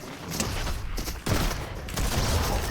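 Rapid bursts of gunfire ring out while shooting enemies in a Fortnite Star Wars season match, dense crackling volleys with a brief lull just past the first second before firing resumes steadily.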